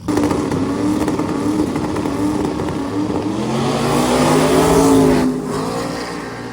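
A big-block drag race car launching and accelerating down the strip, a loud, raw engine roar climbing in pitch through the gears, close at first and then peaking as it passes before fading slightly.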